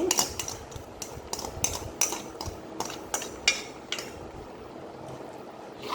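Chicken noodles being mixed in a pan, with utensils repeatedly scraping and clinking against the metal in an uneven rhythm, close and moderately loud with no talking.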